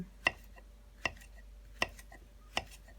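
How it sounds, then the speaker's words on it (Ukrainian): Boiled oak boletes and beefsteak fungus being chopped on a board, four sharp, evenly spaced knife knocks over a quiet background. "Зараз всі ці грибочки я подрібню і ми їх підсмажимо для нашого баношу з грибами в гарбузі."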